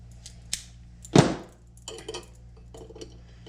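A single sharp snip as brake line tubing for a 1966 Ford Galaxie 500 drum-to-disc conversion is cut, followed by faint metallic handling clinks, close and otherwise quiet.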